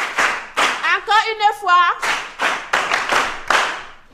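A class of pupils claps together in a quick, rhythmic pattern during a lesson, the sharp, close claps stopping briefly while a voice speaks, then resuming in bursts.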